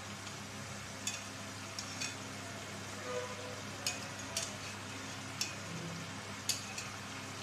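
Hilsa fish pieces frying in a pan of spiced oil: a steady, low sizzle runs throughout, with occasional sharp ticks and taps from utensils against the pan.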